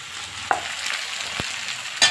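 Okra (bhindi) frying in a pan, a steady close sizzle broken by a few sharp scrapes and clicks of a spoon stirring it.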